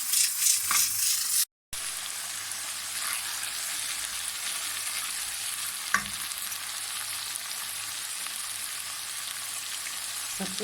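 Ginger garlic paste fries in a hot pan with a steady, close sizzle that runs throughout, broken by a short silent gap near the start and a brief clink partway through.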